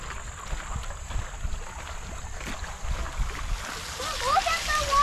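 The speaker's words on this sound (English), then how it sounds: "Look at the waterfall." Water tumbles down a small waterfall and flows along a channel on the Iowa State University campus, a soft continuous splashing rush, while people talk nearby and the water grows louder near the end.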